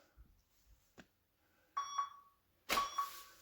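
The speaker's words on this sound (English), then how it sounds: "It'll give me a 10-second countdown, and you'll hear the beeps." A workout interval timer gives countdown beeps, a couple of faint ticks followed by two loud electronic beep pairs, close and clear, with no talking.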